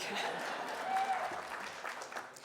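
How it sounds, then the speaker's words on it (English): Brief, fairly faint audience applause at a health conference closing session, a soft wash of clapping that holds steady for a couple of seconds, with a voice faintly present underneath. "Hey, clap for that, believe me"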